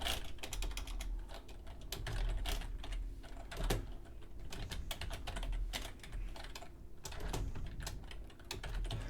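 Steady typing on a computer keyboard, close and continuous, with quick irregular key clicks running throughout and no talking.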